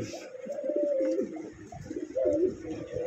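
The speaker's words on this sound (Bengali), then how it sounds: "একটা কবুতর তো প্রথমে দেখাইছি, আর এটা ডাকটা দেখেন সেই" Soft, low pigeon cooing, a few rolling coos repeating close by, with faint background noise.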